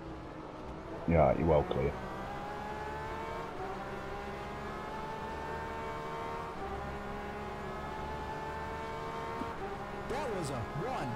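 An LMP prototype race car pulls out of the pits at the 8 Hours of Silverstone, its engine a steady rising whine under a brief radio exchange, with another engine note swelling near the end.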